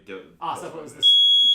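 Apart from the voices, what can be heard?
fire alarm going off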